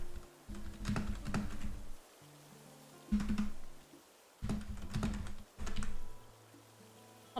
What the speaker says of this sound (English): Hold on, I'm kind of a slow typer.